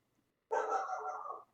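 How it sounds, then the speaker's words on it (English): A single dog bark or yelp, about one second long, close and clear against near silence. "my dogs are barking"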